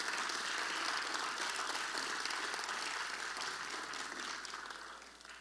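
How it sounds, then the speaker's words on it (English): Applause from a church gathering of alumni sorority members, a steady dense wash of clapping that holds loud and then begins to taper off near the end. "Give yourselves a round of applause."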